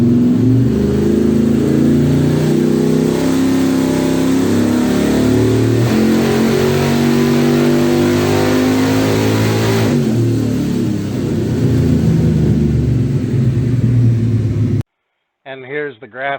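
A 383 LT1 V8 car engine on a dyno with a 200-shot of nitrous revs hard and loud, its rising roar sustained for about fifteen seconds before cutting off abruptly, with a voice briefly heard after.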